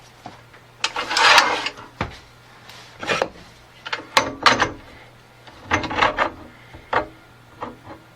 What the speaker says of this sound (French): On approche notre coupé mobile.